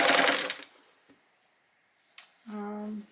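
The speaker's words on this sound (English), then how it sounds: "I am making just a 1/4 inch seam onto this edge of my quilt" A sewing machine runs a quarter-inch seam along the edge of a quilt, opening with a loud burst of stitching, going quiet, then returning as a steady, close whirring hum for the last half second.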